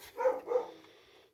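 A dog barks twice in quick succession at a moderate distance, each bark short and strong, with the second fading into a quieter tail.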